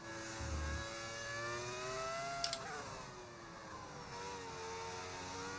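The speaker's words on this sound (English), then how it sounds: "the V10 engine is back. Screaming away into the distance." A Lamborghini V10 race car engine in the F1 25 game wails at high pitch with steady tonal whine, holding a constant scream before slowly fading into the distance, with a brief click midway.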